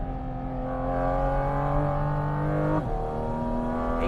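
A Porsche GT4 RS drives on an Italian mountain road, its engine a loud sustained tonal drone that climbs in pitch, dips sharply at a gear change, then continues steadily, heard close with no talking.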